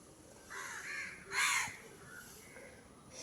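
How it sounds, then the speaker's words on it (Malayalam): Crows calling outdoors: a few harsh, ragged caws in quick succession, fairly close and clear over faint background hiss, with no talking. "കാക്കകൾ വഴക്കാളികളല്ലേ."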